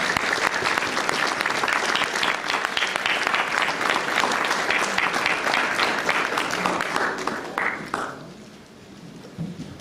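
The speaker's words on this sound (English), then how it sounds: "Let us give all of our panelists a rousing round of applause" Rousing applause for a panel at a community summit in Atlanta, a dense, steady roar of clapping from a crowd that holds for about eight seconds, then quickly dies away.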